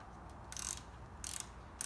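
A torque wrench ratchets while tightening bolts, giving two or three short bursts of rapid close clicking separated by quiet pauses, with no talking.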